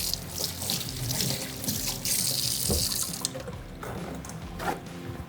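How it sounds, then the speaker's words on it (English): Hands are washed under a running kitchen faucet, a steady close stream of splashing water with shifting splatter as the hands move through it, with no voices. "then wash my hands before I touch this bottle."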